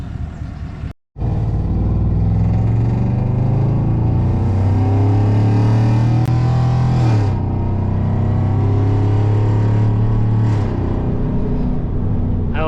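A 2021 Chevrolet Silverado pickup fitted with an S&B cold air intake accelerates, its engine rising steadily in pitch over several seconds, then easing off and pulling again, close and loud with no talk.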